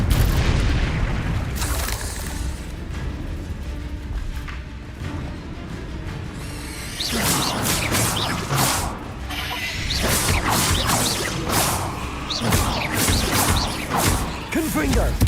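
Confringo fire spell blasts in Hogwarts Legacy, heavy booming impacts and crashes, with more rapid explosive bursts in the second half amid combat noise, with some voices in the background.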